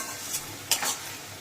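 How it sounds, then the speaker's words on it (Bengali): Spice paste being stir-fried (kasha) in a pan while cooking fish-head muri ghonto, a soft continuous sizzle with a few louder scraping stirs standing out, close and alone. "এই জন্য ভালো করে কষিয়ে নিচ্ছে"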